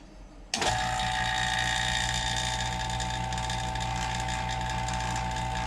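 A vacuum tester switches on abruptly and runs continuously with a loud, close mechanical whine and buzzing drone, used on a valve of a 2012 Hemi 1500 engine; no talk.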